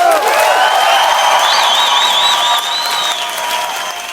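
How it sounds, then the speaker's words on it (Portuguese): Audience applause for a performer at a show, a continuous wash of clapping and crowd noise under a sustained, wavering sung or tonal line, easing slightly in the final second. "Os aplausos para Dona Edith é um delírio."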